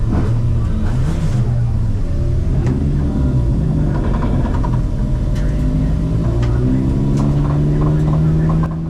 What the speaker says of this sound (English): you would have noticed the noises the car was making as I'm turning the wheel